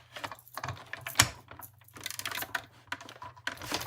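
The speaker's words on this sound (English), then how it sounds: "we're going to run this through with the embossing, the gray embossing plate" Card stock inside a Starstruck embossing folder is cranked through an embossing machine with a gray embossing plate. It makes a faint, steady mechanical clicking and ratcheting over a low hum, with irregular taps throughout.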